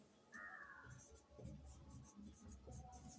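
Pen or chalk writing out a chemistry question on a board in a classroom lesson, short scratchy strokes in bursts under faint room noise, with a brief voice at the start.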